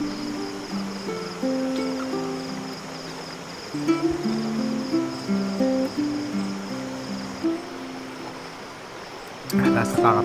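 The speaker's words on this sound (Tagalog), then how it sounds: "tsaka yung tunog ng ilog, agos ng ilog." A river flows at night at a remote rural camping spot as a soft continuous rushing wash, with people talking intermittently over it.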